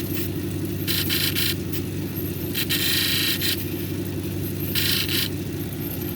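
A green zebra jasper cabochon is ground on a lapidary wheel: a steady motor hum runs throughout, with three rasping, hissy grinding bursts each lasting under a second as the stone touches the wheel, close and moderately loud.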